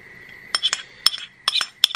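A fork clinks against a bowl while eggs are beaten for an English breakfast: quick, sharp metallic taps in small irregular clusters, close and clear, with no talking.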